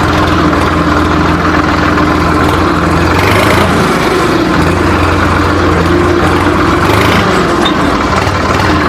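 A second-hand Sonalika RX 47 tractor in reverse gear runs with a loud, steady, rumbling drone that stays close and continuous throughout.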